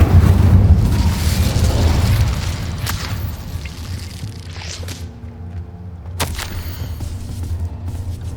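Incendio fire spell cast in Hogwarts Legacy bursts out as a loud whooshing blast of flame with a deep rumble, then fades into quieter ambience before a second sharp crack and a short flare.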